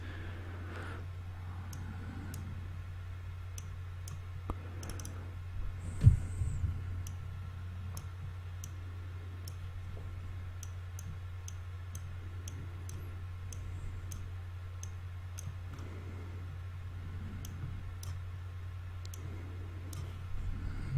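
A computer mouse clicks while drawing in Inkscape: sparse, sharp clicks come at irregular intervals over a constant low hum, faint but distinct, with no talking.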